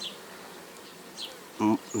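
Honey bees buzz softly around beehives, a faint steady hum with a few closer passes, plus a brief louder sound near the end.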